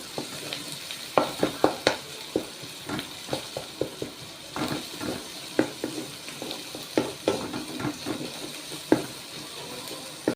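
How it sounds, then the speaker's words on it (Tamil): Masala with onion and tomato fries in a pan, a soft steady sizzle broken by repeated sharp scrapes and clacks of a spoon stirring, close and fairly quiet. "இந்த மசாலாவை அந்த பல்லாரி தக்காளி பழத்தில் மிக்ஸ் பண்ணி ஃப்ரை பண்ணணும்"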